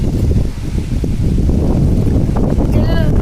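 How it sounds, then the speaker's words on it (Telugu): Gusty outdoor wind buffets the microphone, giving a loud, continuous low rumble with rustling. It persists without a break through the short stretch. "గాలి మళ్ళీ లేస్తుంది."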